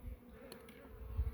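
Honeybees buzz softly around a hive frame holding stored nectar, with small hive beetles present; a faint, continuous low hum close by with no voices.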